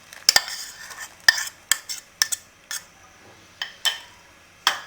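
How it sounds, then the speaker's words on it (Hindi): Utensil stirring carrot kheer with milk and chopped coconut in a pot: a string of sharp scraping clicks and taps at an irregular rhythm, close and fairly loud, with no talking. "अब इन तमाम चीज़ों को हम अच्छे से मिक्स करेंगे"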